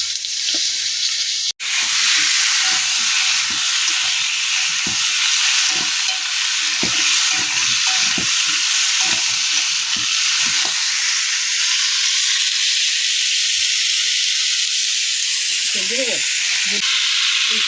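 Kohlrabi pieces fry in oil for a silver carp fish curry, a steady loud sizzle with repeated stirring scrapes of a spatula and brief talk partway through.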